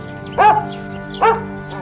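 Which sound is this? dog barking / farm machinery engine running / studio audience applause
dog barking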